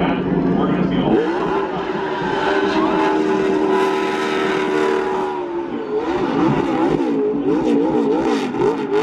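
Engine roar of NASCAR race cars at Talladega Superspeedway, a loud continuous drone that swells and shifts pitch as cars pass the start-finish line, with a wavering tone near the end and voices mixed in.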